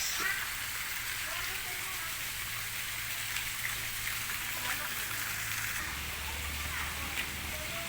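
Water pours steadily into a swimming pool, a constant broadband rush like heavy rain, with a person talking over it at moderate distance.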